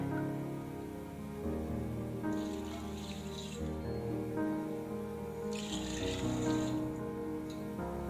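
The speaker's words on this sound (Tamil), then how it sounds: "நான் வந்து 1 கப்பு பச்சை பயிருக்கு 3 கப்பு தண்ணி சேர்க்கிறேன்" Water pours in a steady stream into a pot holding green gram, with a splashing, rushing sound that swells and fades twice.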